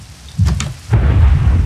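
Thunder from a lightning strike in a video game storm: a sharp nearby crack followed by a loud, rolling rumble that carries on steadily to the end, with no voices.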